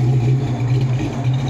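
A Ford Mustang with a 5.0 V8 idles nearby, a loud, deep, steady rumble with a slight lumpy pulse and no talk over it.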